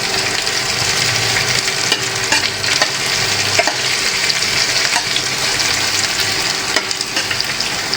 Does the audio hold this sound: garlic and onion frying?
yes